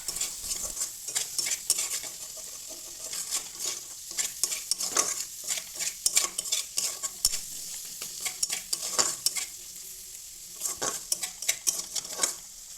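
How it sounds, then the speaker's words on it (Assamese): Tomatoes with turmeric powder and salt fry in a pan while a utensil stirs and scrapes in quick, repeated bursts over a light sizzle, close up with no voices. "বিলাহীখিনি দি ভালকৈ ভাজি ল'ম"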